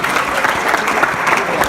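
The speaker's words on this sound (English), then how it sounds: "big round of applause for Mr." A banquet crowd gives a team captain a hearty round of applause, dense, loud, sustained clapping from many people filling the room throughout.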